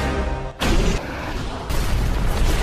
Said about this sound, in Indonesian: terkena ledakan secara langsung